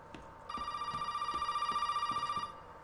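A telephone rings in the Resident Evil 7 video game, a steady electronic trill lasting about two seconds, moderately loud, with faint thuds and footsteps beneath it.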